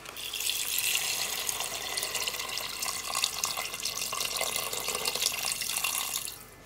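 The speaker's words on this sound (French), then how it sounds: "là maintenant je vais rajouter de l'eau" Water pours steadily from a tap into a pot of rice, a continuous close splashing rush that runs for several seconds before cutting off.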